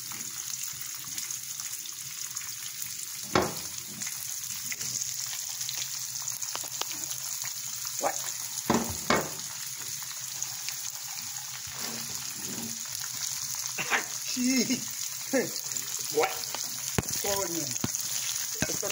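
Potatoes and other ingredients frying in a pan, a soft steady sizzle with scattered clinks and stirring knocks, close but fairly quiet, with no talking.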